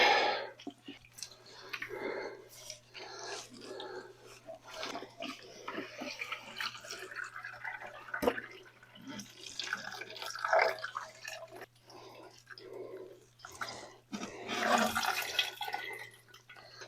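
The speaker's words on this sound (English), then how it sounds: "Let most of the water drain out." Brine water drips and splashes off a whole raw turkey lifted out of its brine bucket, a steady patter of irregular drops, close and fairly loud, with occasional heavier splashes and no talking.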